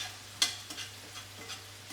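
Vegetables stir-frying in a pan after steak was cooked in it, a low steady sizzle with one sharp clatter and a few lighter scrapes, close and fairly quiet, no voices.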